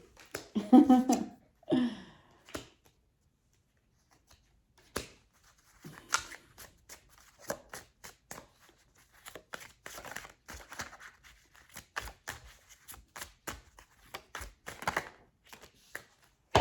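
Tarot cards riffle in a few quick bursts at the start, then softer handling sounds, crisp snaps and light slaps continue intermittently, close and fairly quiet.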